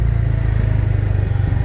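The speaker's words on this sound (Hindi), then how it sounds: "रात में मोटरसाइकिल चलाना रोहिस्तान में मेरा पहला एक्सपीरियंस था" A motorcycle ridden at night in Balochistan, on the road from Quetta to Qilla Saifullah, gives a loud, steady close-up engine drone with rapid pulsing exhaust throb and constant wind rush, with no talking.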